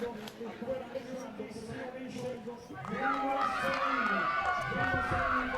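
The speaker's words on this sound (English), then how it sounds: "He's got the support of the arena here, all of his teammates cheering him on" Teammates cheer an orienteering runner finishing in the arena, a crowd rising into steady cheering and shouting partway through, with a commentator talking throughout.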